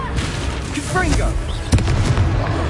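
A Confringo blasting spell goes off in the Hogwarts Legacy video game, a loud booming burst with a sharp crack near the middle, set among dense combat noise and a spoken voice.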